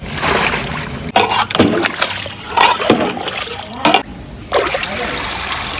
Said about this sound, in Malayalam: ഈ വെള്ളത്തിൽ നിന്ന് ചിക്കൻ ഇതാ കോരി മാറ്റിക്കൊണ്ടിരിക്കുകയാണ്